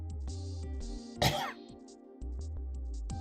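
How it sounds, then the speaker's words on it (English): One sharp cough bursts out over a steady low hum, short and close, followed by a brief quiet before the hum returns. "I have been coughing like non-stop for weeks now"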